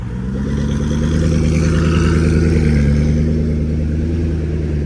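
A loud sports car engine drones steadily up close, a deep throaty rumble holding at a constant pitch throughout.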